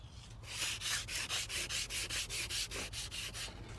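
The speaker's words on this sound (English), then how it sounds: "So I'm just sanding off, you know, where I had painted before" Rapid back-and-forth rasping of sandpaper on a painted wooden sign, sanding off the paint, about a dozen even strokes in a quick steady rhythm, close up.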